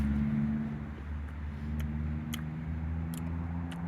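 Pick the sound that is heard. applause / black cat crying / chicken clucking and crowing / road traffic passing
road traffic passing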